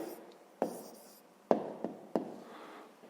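Close, quiet pen strokes writing down a math answer by hand on paper, a few distinct taps and scratches spaced irregularly, with no talking.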